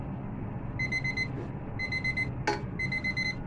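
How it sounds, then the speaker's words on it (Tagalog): An alarm clock beeps in a kitchen during lasagne bolognese preparation, sounding in three bursts of rapid repeated high-pitched tones separated by short pauses, with a brief clatter in the middle and a steady low background hum. "Ayan, late na ang ating alarm."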